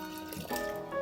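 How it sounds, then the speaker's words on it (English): Water is poured over coffee grounds in a Toddy cold brew maker, a brief soft trickling splash close by, moderately quiet and heard alone. "When you're pouring the water, you want to evenly saturate the grounds, so it's best to pour in circles."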